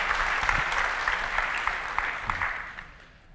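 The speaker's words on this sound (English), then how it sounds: "So give a round of applause." Applause from a keynote audience at a tech conference, a broad steady clatter of many hands that holds level and then thins and fades toward the end.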